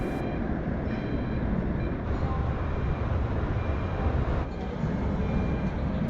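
A tram rolls through the streets of Sofia, Bulgaria in the early morning, giving a steady, loud rumble of wheels on rails. The noise holds even for the whole stretch, with no voices.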